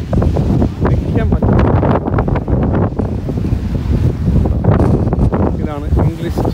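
Strong wind on the English Channel coast at Deal, Kent buffets the microphone in loud, gusting roars, with surf beneath and a brief voice near the end.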